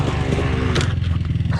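A motorcycle on a track at close range, its engine roaring loud and rough with a slight dip in pitch partway through, as on a first-ever track ride.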